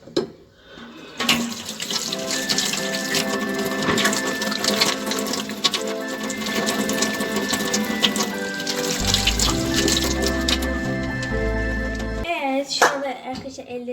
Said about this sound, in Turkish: Elimizi yıkamaya başlayalım.